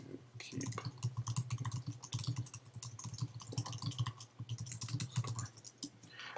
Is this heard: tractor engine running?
no